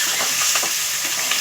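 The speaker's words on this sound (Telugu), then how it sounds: "రెడ్గా ఫ్రై అయిన తర్వాత పచ్చిమిర్చి వేస్తున్నాము." Green chillies dropped into hot oil that has already fried red, giving a steady, loud frying sizzle with bursts of crackle and spitting close by, no voices.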